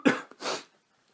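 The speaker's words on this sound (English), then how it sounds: "I'm going to cough." A single man gives a close, sharp cough followed by a softer breathy second burst, then silence.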